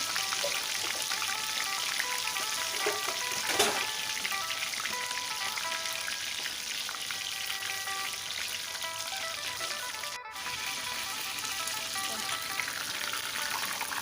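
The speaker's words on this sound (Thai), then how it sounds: "จะเริ่มทอดปลากันเลยนะคะ" Tilapia fish frying in hot oil over high heat makes a dense, continuous crackling sizzle, close and steady like heavy rain, with a brief dip partway through.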